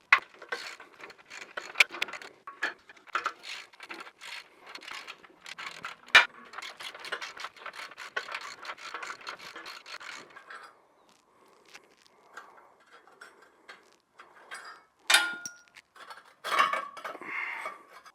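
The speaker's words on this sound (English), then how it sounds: "we got the 2 bolts taken off that flange right there in the front of this muffler pipe right here" Light metallic clinks, taps and ratcheting clicks come in irregular clusters, close but fairly quiet, as exhaust flange bolts are loosened under a Ford F-150, followed by a few sharper clanks near the end.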